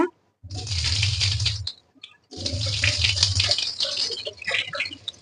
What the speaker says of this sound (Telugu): ఇది కూడా ఫుల్గా వాటర్ తీసేస్తున్నాను